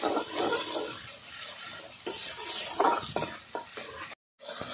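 Spices for a Bengali prawn and mete alu curry are stirred and fried in a pan, giving a steady hiss and sizzle with scraping spatula strokes and light metallic clinks, close and continuous with a brief gap near the end.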